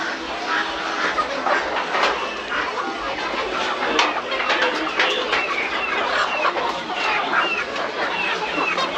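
Dense chattering of many chickens clucking continuously at a Madagascar market stall where chickens are slaughtered, with some cooing birds mixed in, busy and close throughout.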